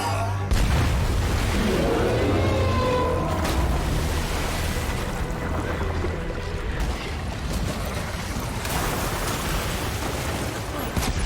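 Grenades going off in Death Stranding, with heavy booming blasts and deep rumble that rolls on for several seconds, followed by crackling debris and lingering low roar. Game voices come and go over it.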